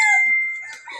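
A rooster crows once, loud and close, a single drawn-out call with a rising then trailing tone, heard alone.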